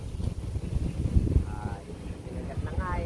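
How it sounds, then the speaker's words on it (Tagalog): Gusty wind buffeting the microphone in low rumbling bursts while tilapia fishing in Vergara, with faint voices in the background. "Putang ina namang hangin to."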